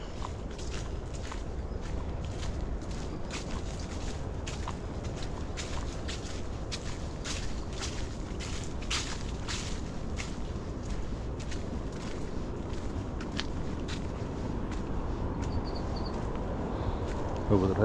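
Footsteps crunch along an overgrown path near railway tracks, irregular close steps through brush over wind rumble on the microphone.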